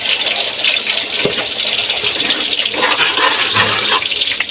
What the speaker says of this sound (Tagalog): lalagyan na rin po siya ng tubig